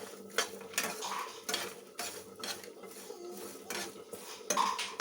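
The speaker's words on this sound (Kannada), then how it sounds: "ತೆಂಗಿನಕಾಯಿ ತಗೊಂಡಿದ್ದೆ, ಅದನ್ನು ಕೂಡ ಇದರಲ್ಲಿ ಫ್ರೈ ಮಾಡಿ." Coconut frying in a pan for sambar, dominated by repeated clinks and scrapes of a metal spoon stirring against the pan in uneven bursts, with a faint sizzle underneath and no voices.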